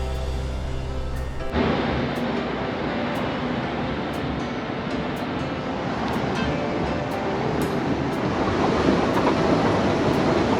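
A Bangkok Red Line electric commuter train runs along the rails with a steady rushing roar and faint rhythmic clatter, growing in after a brief quieter moment at the start.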